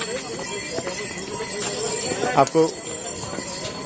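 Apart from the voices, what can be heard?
horse hooves clip-clopping, girl riding a horse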